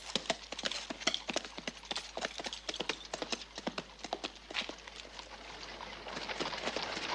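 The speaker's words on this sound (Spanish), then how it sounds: "utiliza el látigo con los caballos" Horses' hooves clip-clop in a quick, steady rhythm as they pull a wagon along a trail in an old Western setting, the beats close and clear with no talk over them.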